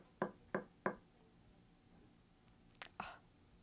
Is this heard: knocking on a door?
yes